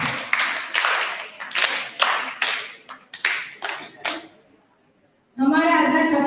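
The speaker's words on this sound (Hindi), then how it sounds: "अब जी के लिए तालियां हो जाए" An audience at a women's gathering gives several short bursts of clapping, each swelling and fading in uneven waves before a pause, after which a voice begins speaking.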